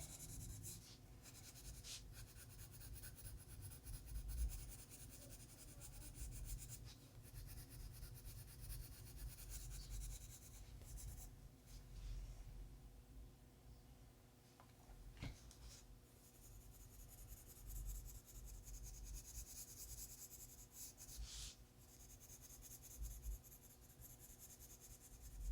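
Ginger root colored pencil burnishing paper, a continuous soft scratchy rubbing with steady back-and-forth strokes, close and quiet, with no talking.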